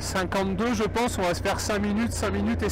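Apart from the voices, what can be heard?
No distinct noise like a dog, phone or traffic.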